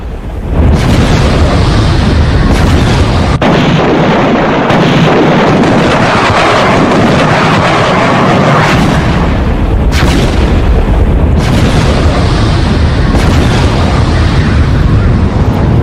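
Heavy, booming explosions in a city during the Iran-Israel war rumble continuously, loud and dense, with deep blasts rolling over one another and a distant voice faintly underneath.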